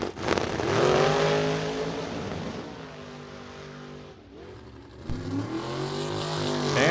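A supercharged dragster on a drag strip at a Super Pro and Top Sportsman test and tune meet, its engine roaring loud and close with rising and falling harmonic tones, dipping briefly before revving up again.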